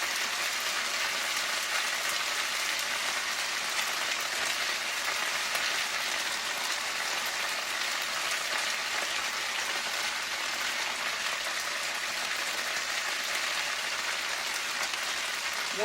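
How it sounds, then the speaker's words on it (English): Food frying in a pan for a potato and ham casserole, a dense, even crackling sizzle like rain, continuous and close with no talk. "I'm going to let them fry just a little bit longer"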